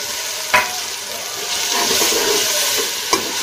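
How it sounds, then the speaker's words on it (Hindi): Tomatoes go into frying masala for a bottle gourd sabzi, producing a steady, close hiss and sizzle of hot oil with a couple of sharp spoon clinks against the pan and no talk. "टमाटर डाल के इनको थोड़ी देर भूनेंगे।"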